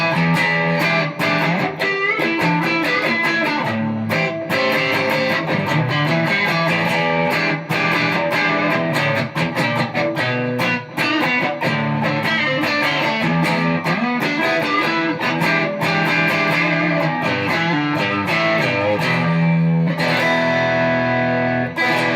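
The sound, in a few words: Stratocaster through TC Electronic Darkmatter Distortion pedal, vintage mode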